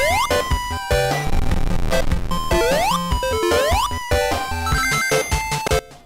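Sonic the Hedgehog title-screen music from a faulty emulated port plays loud and harsh, with warbling, detuned melody lines, chirping pitch sweeps and crude, distorted tones.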